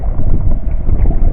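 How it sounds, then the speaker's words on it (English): Strong wind buffets the microphone while canoeing in the backcountry, a loud, continuous low rumble with no other sound standing out. "the wind's even probably worse than yesterday"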